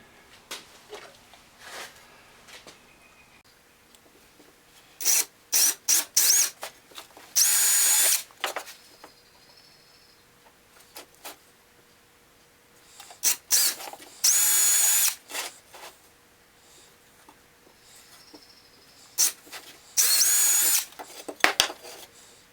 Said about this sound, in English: after I drill 3/16 pilot holes into the 2x4 frame